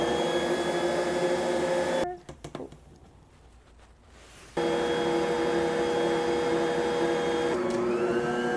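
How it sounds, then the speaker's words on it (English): A Bosch stand mixer kneads English muffin dough with a loud, steady motor hum, cuts out for about two seconds with clattering and handling sounds, then resumes its constant whine. "And so I always use my Bosch mixer"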